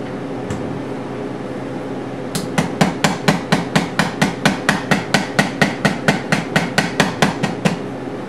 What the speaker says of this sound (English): My fretting hammer of choice is actually an antique cobbler's chasing hammer.